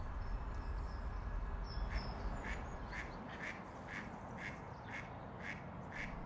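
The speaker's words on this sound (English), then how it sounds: "The ducks are having a bit of a flap again." Ducks near a mink quack repeatedly in a fairly even rhythm over a steady wash of background noise, a few calls sounding at a moderate distance.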